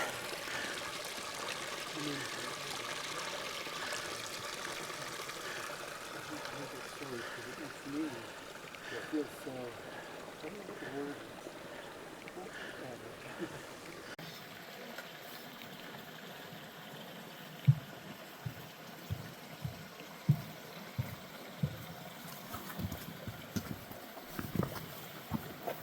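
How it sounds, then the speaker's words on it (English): A small mountain creek along a trail near the Palisade Glacier runs with a steady rushing trickle. Later, sharp irregular knocks like footsteps on rock cut in over the water's wash. "Here's another example of our little flowing creek."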